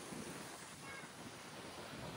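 Strong wind of around 40 knots sweeps across Boracay's back beach, a constant rough roar of gusts buffeting the microphone, mixed with faint surf.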